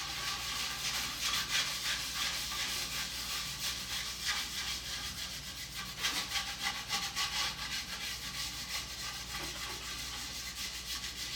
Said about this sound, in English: So just get your sander a little bit wet.